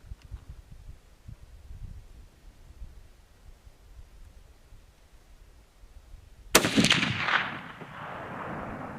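A Remington 700 BDL Custom 30-06 rifle in a semi bench rest stock fires once after a quiet stretch: a single sharp, loud crack that booms and rumbles away over a couple of seconds.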